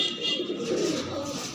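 Punjabi pigeons coo in a pigeon shop, soft low throaty calls that overlap briefly against background chatter and room noise.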